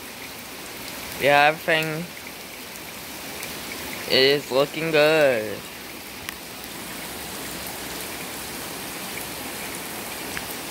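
Steady outdoor rain on a mild 60-degree day, a continuous broadband wash of drops on surfaces, with two short bursts of someone talking nearby over it.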